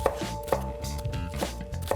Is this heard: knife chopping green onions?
yes